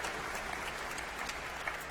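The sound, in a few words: applause at graduation ceremony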